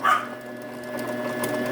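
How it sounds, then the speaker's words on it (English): A Brother XR 3774 sewing machine winds its bobbin with a steady, even mechanical whir that runs throughout, close by, with a brief dog bark at the start. "Now the bobbin's winding up."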